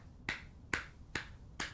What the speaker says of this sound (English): started clapping louder,